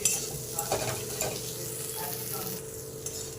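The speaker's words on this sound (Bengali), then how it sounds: "দেওয়ার পর ভালোভাবে কষিয়ে নেব।" Chicken being stir-fried in a pan for a simple chicken kosha, with a steady close sizzle and repeated stirring scrapes throughout.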